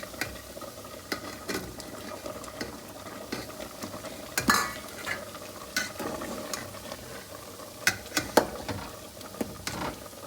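Tomatoes are tipped into a one-pot Jaffna-style rice and lentil dish and stirred, with scattered spoon scrapes and knocks against the pot over a low simmering bubble, fairly quiet and with no talking.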